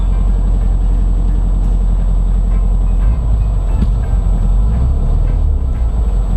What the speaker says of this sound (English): Right off the bat, this carburetor is really acting up.